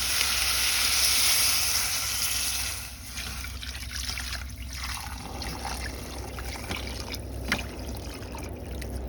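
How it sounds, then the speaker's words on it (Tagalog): Water pours and trickles into a hot pan for chicken sotanghon, a bright hiss that settles into a steady lower sizzle and bubbling after a few seconds. "Lagyan natin ng tubig."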